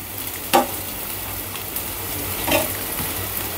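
Okra and potato fry with chopped onion in a pan, a steady faint sizzle with two brief louder stirring scrapes, no talk.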